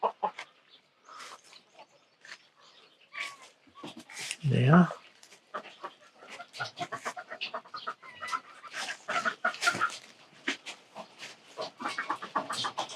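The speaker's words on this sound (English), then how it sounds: "The chickens are just getting some food scraps now." Chickens cluck and peck at food scraps in a desert permaculture garden, with scattered short clucks and rustling close by, and a person briefly speaking.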